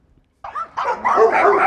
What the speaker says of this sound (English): Group of dogs barking sounds to make your dog bark crazy